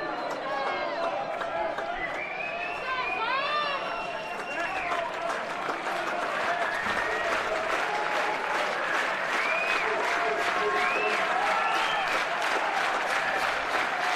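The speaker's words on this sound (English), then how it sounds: "Georgia crowd comes alive." At a college baseball regional final in Athens, the Georgia home crowd claps and cheers loudly and continuously, with whistles and shouts rising over the applause while an announcer talks on top.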